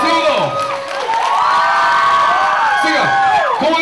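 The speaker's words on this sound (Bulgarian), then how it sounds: "Искам да чуя силните аплодисменти за вашите учители." A large school crowd at a graduation celebration cheers, whoops and applauds loudly and continuously, with shouting voices rising over sustained clapping.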